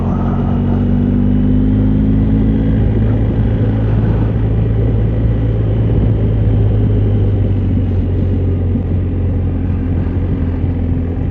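A BMW 1250GS motorcycle pulls away on Hardknott Pass, its engine a steady loud rumble that rises in pitch as it accelerates, with constant wind buffeting throughout.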